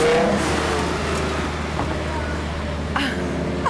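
An expensive luxury car, nearly $600,000 in value, drives off through a car park at a luxury car auction, its steady engine drone continuous and close, with faint voices in the background.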